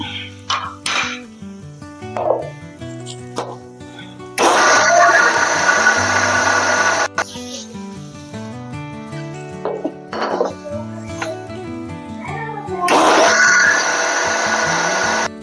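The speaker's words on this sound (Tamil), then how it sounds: "தேங்காயோட இந்த சின்ன வெங்காயத்தையும் போட்டு அரைச்சிக்கணும்." A kitchen mixer grinder grinding coconut and shallots whirs in loud bursts, starting and stopping several times, with clinking and handling noises between runs.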